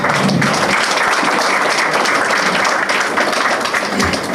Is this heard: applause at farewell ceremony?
yes